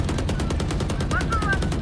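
Rapid bursts of gunfire from an online shooter video game, a fast repeating rattle that fills the short clip at steady, loud volume.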